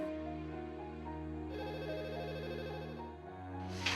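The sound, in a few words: telephone ringing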